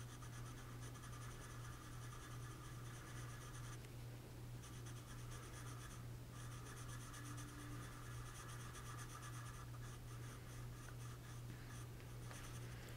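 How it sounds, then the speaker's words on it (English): Jumbo jet black pencil shading in the pupils of a drawn chick on paper, a steady close scratchy rubbing that continues throughout over a constant low hum. "we're going to go ahead and shade in the pupils with our jumbo jet black"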